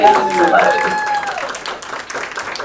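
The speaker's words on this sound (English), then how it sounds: "Let's do a quick round of applause to Eldon for setting this up for everybody" Audience applause for the organizer at a comedy night, a burst of clapping from a small crowd with whoops and a voice over it, fading over a couple of seconds.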